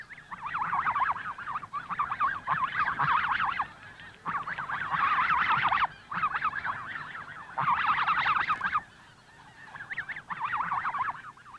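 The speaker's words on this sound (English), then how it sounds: "In the background, the wild geese talk to each other of the long journey they'll soon be making back to Hudson Bay" Wild snow geese honk repeatedly in loud, overlapping bursts with brief pauses between them, a flock calling together nearby.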